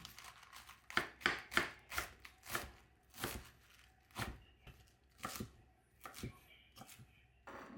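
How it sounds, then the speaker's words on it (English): A knife slices vegetables thinly on a cutting board for fish tacos, a quick irregular series of crisp close chops and board taps, with soft handling noises between strokes. "Okay, let's prepare some veggies for tacos. Four of them. I like to slice it really thin."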